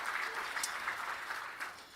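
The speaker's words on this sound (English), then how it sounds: "One more time, a round of applause for RCX Sports Foundation." A crowd applauds steadily, dense clapping filling the whole stretch at a fairly constant, moderate level.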